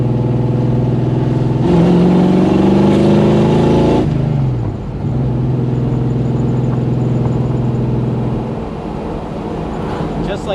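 A 1966 Pontiac GTO with a Tri-Power 389 V8 and its exhaust cutouts open, rumbling loudly and close at idle. It then rises in a strong rev before dropping back to a steady, throaty idle, with no talk over it.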